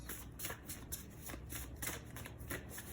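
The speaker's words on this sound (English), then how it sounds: "let's shuffle them a bit first" Tarot cards are shuffled close up in quick, repeated riffling bursts, crisp and papery, with no talking.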